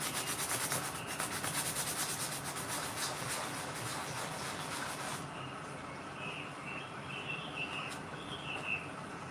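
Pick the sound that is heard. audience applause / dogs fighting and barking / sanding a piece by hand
sanding a piece by hand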